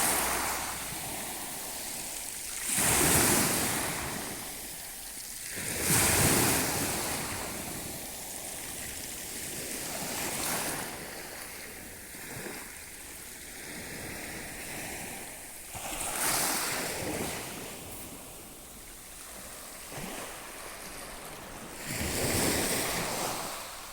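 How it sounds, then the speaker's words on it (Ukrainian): Mediterranean Sea waves roll onto a hotel beach at Kiotari, Rhodes, at dawn, in steady surges every few seconds, with a constant wash of surf and some wind noise, no voices. "Середземне море."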